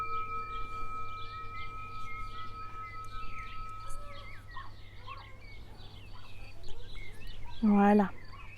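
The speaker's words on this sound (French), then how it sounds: "il peut y avoir des petits bruits, il y a les oiseaux, la nature, le vent." Birds calling outdoors in a garden setting, with scattered faint chirps in the background and a loud, gobbling bird call near the end over steady low ambient hum.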